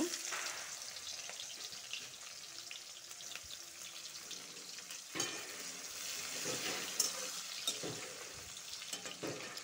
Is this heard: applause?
no